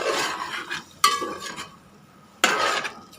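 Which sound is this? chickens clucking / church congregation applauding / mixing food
mixing food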